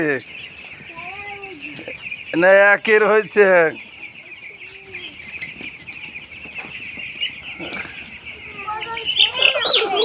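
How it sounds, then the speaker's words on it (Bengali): A flock of broiler chickens, about ten days old, clucks and chirps close by, with a loud burst of overlapping calls in the middle, while people talk briefly. "কি মুরগি? ব্রয়লার?"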